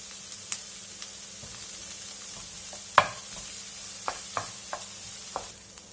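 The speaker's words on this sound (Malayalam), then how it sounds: "അതുവരെ നമുക്കൊന്ന് ഇളക്കി കൊടുക്കാം." Vegetables and curry leaves being stirred in a pan over low flame for semiya upma, with a soft steady sizzle and several sharp scraping clicks of the spoon against the pan, close and without talk.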